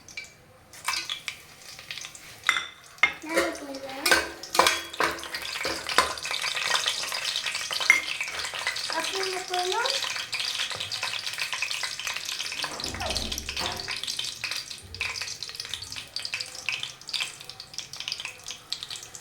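Star anise, cloves, a bay leaf, kasuri methi and cinnamon frying in ghee for mushroom biryani, a steady close sizzle with clinks and stirring scrapes and brief splashes of water throughout.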